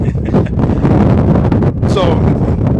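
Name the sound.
wind blowing at a football field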